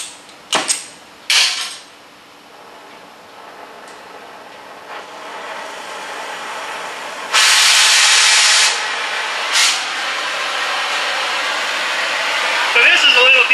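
An oxygen-acetylene cutting torch hisses steadily in a workshop after its gas bottles are opened, with short valve bursts early on and a louder surge of rushing gas midway.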